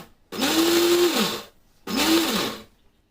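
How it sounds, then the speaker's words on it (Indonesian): Electric blender whirs through sambal ingredients, chillies, mushrooms and water, in two loud bursts of about a second each with a short pause between, kept coarse rather than fine. "Untuk memblendernya jangan sampai terlalu halus ya teman-teman ya, agak kasar saja."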